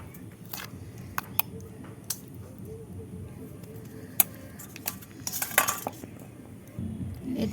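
A spoon stirs sugar into a little water in a bowl, giving quiet scraping and scattered clinks against the dish, with a louder burst of clattering near the end.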